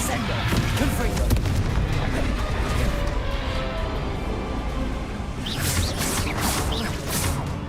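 Spell blasts going off in the Hogwarts Legacy video game, a dense run of booming impacts and whooshes over continuous combat noise, loud and near, with a voice speaking over them.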